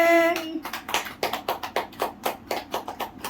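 Hands clap at a small family celebration with a cake, roughly a dozen quick, fairly even claps that follow a brief tone, with a voice nearby.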